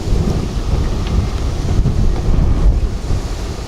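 Wind roars around a burning Swedish fire torch, fanning the flames; a loud, steady rumbling gust noise fills the whole stretch with no pause.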